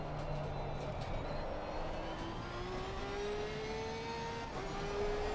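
A Lexus in a racing video game revs steadily, its engine pitch climbing smoothly through a gear and holding high, moderately loud and alone over constant background noise.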